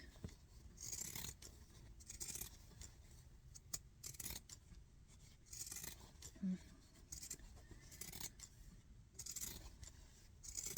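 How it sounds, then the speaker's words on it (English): Scissors snipping through fabric in a series of crisp cuts, close by and faint, with soft handling rustles between them. "These are good scissors."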